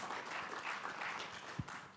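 Applause from a church congregation praising Jesus at a Sunday service, a steady wash of many hands clapping throughout, fairly loud and close, with no talking.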